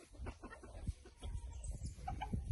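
Chickens cluck in short, irregular bursts at close range, with scattered scratching and rustling around them and no talking.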